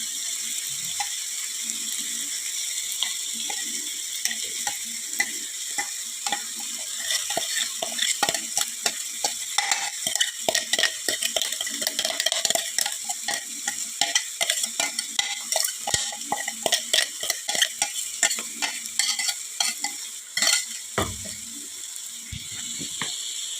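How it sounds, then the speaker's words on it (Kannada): Ground coconut fries in a pan, with a spatula scraping and stirring in quick, ratcheting strokes over a continuous sizzle, close and moderately loud, pausing briefly near the end. "ಇನ್ನು ರುಬ್ಬಿಟ್ಕೊಂಡಂಥ ಕಾಯಿಯನ್ನು ಇದಕ್ಕೆ ಹಾಕಿ ಚೆಂದ ಫ್ರೈ ಮಾಡುವ"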